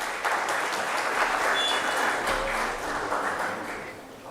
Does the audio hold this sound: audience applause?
yes